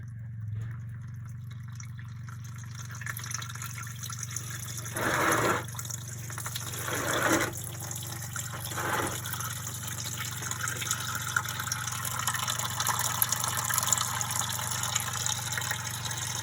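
Water drains from the old transmission of a 1956 Dodge H6 truck, a continuous trickling pour over a steady low hum, with a few louder splashy bursts early on.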